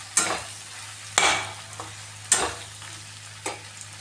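Macaroni frying with tomato and onion in a pan for a paneer macaroni dish, stirred in four distinct scraping strokes over a steady low sizzle, close up and without talk.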